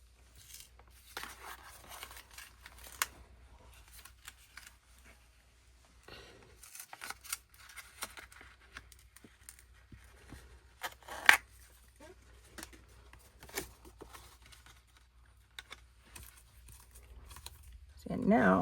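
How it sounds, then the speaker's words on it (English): Backing sheet being peeled off a Cricut vinyl project, with soft intermittent crinkling, tearing and rustling at close range, separated by quiet gaps. "I'm going to go ahead and peel this backing off"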